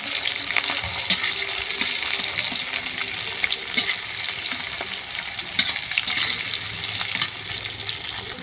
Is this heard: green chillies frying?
yes